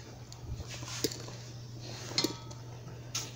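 Fufu being stirred into vegetable bean soup in a pot to thicken it: a few soft, scattered clinks of a utensil against the pot over a quiet, steady background hum, with no voices.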